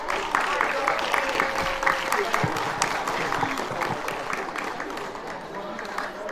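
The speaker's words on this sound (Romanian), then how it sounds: "Dacă îi și încurajăm cu aplauze, le vor trece cu siguranță și emoțiile." An audience applauds graduating eighth-grade students at a school ceremony, a dense, steady clapping that carries on for several seconds with crowd murmur mixed in.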